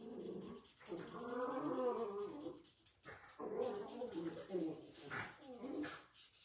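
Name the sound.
dogs wrestling and panting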